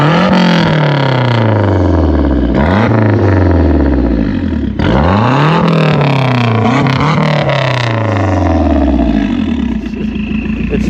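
A Lancia Delta HF Integrale with an aftermarket exhaust barks to life and revs hard repeatedly, each loud blip rising and falling in sweeping roars, close and continuous with no talking.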